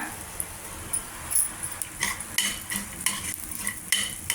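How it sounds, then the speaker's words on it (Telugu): Sesame seeds and cumin roast dry in a pan, a quiet, dry rustle under a run of quick spatula scrapes and light metal taps that grow busier midway, close up, with no voices. "కొద్దిగా వేయించుకోవాలి ఇలాగా బ్రౌన్ కలర్ వచ్చేదాకా"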